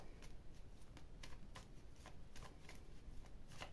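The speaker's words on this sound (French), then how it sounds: "On va faire le tirage avec les cartes." A deck of cards is shuffled for a tarot-style card reading, with a run of crisp, rapid riffling bursts repeating in a steady rhythm close to the listener, and no voices over the quiet background.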